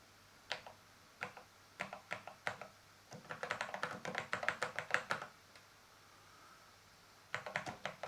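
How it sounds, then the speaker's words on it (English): Keys clack on a Commodore 64 keyboard: a few separate presses, then a quick flurry of typing, a pause, and another short run, close over a faint steady hum. "I was typing too fast for my Commodore, so the Commodore couldn't keep up with me."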